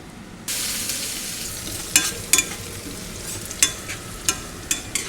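Garlic sizzles loudly in a hot pan while being fried for Thai pork larb, with a steady crackle broken by several sharp scrapes and clacks of stirring.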